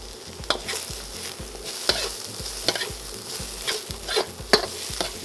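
Ginger sizzling and frying in a hot wok for a chicken stir fry, a steady hiss broken by regular scraping stirs of the spatula, close and with no talk.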